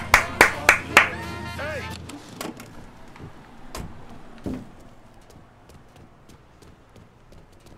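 A short run of sharp hand claps in the video game Mafia 3, four quick bursts near the start over music with a voice, then fading into a quieter game background.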